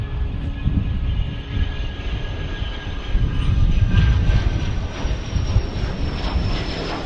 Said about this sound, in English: with a Learjet appearing to depart here